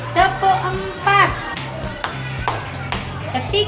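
Schoolchildren in a classroom clap on their teacher's count, giving a few sharp, separate claps a short moment apart, with children's voices and the teacher's voice chattering underneath.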